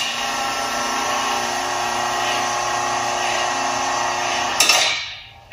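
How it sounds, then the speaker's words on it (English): A large screw drive vehicle lift in an RV factory runs with a steady mechanical whir and hum, then a brief clank as it stops and the sound dies away. "So this is a monster screw drive lift system."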